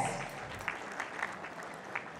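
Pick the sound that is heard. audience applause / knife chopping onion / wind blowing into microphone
audience applause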